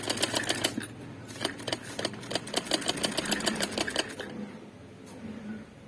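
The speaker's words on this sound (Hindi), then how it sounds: "ये दूसरी तरफ से इसी तरह सिलाई लगानी है।" A sewing machine stitching a kameez neckline, running in rapid rhythmic bursts of needle clatter with brief pauses, close and moderately loud, fading to quiet near the end.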